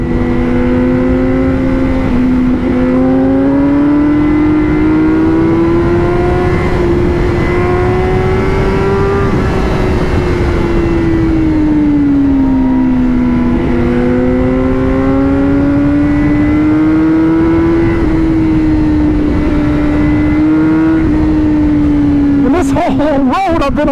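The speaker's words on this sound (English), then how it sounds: "because the gearing is so tall on this bike, you can stay in third gear seemingly forever" Tall-geared superbike engine, a 2021 BMW M 1000 RR or Honda CBR1000RR-R Fireblade SP, held in third gear, droning loudly and steadily as revs rise and fall in long smooth swells for over twenty seconds, with rushing wind noise throughout.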